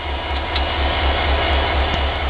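Diesel locomotive hauling an empty log train in Elk Valley, a steady heavy rumble with low engine throb and rolling rail noise, close and continuous.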